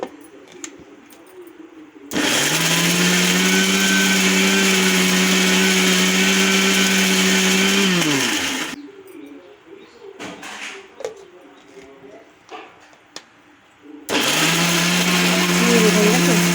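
A blender roars loudly for several seconds grinding onions and spices into a smooth paste for crab curry. It stops, leaving a quiet gap with faint bird coos and clatter, then whirs up again.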